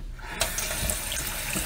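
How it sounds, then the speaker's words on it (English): Water gushes steadily from a kitchen sink tap, a loud continuous hiss that starts abruptly after a short quiet moment and runs on alone. "So the first thing we're going to do is we're going to turn the water on."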